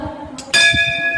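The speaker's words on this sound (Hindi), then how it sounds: "हमने सबसे पहले घंटी बजाई।" A bell rung inside a village Shiva temple, one bright metallic strike that rings on with a sustained shimmering tone, close and loud over faint background sound.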